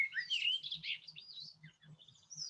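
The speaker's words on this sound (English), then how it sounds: "So you can listen to the bird calls and the background video that I have going" Bird calls in a relaxation setting: soft, quick chirps and tweets in short bursts, faint and gentle, with a low steady hum beneath them.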